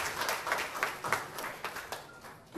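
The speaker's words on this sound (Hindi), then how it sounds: "ताली तो बनती है।" Applause at a film trailer launch event, a moderate, somewhat distant crowd clapping that swells and fades irregularly.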